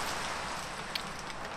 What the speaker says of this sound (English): As you can hear, the rain filters out and the volume turns down when I enter the building.